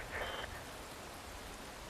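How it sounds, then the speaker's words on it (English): Rainfall in the video game Metal Gear Rising, a soft continuous hiss of rain with a brief brighter tone near the start, fairly faint and steady with no talking. "Wind blows. Rain falls."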